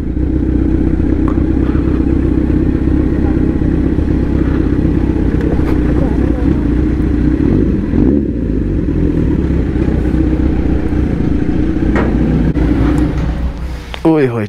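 A Kawasaki Z900 motorcycle cruises gently in fifth gear on a college campus, its steady, loud engine drone and wind rush continuing throughout, easing off slightly near the end.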